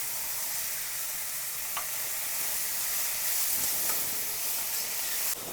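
Sweet corn being stir-fried with capsicum on a hot iron dosa tava, a steady close sizzle and hiss running throughout with a few faint scrapes of stirring.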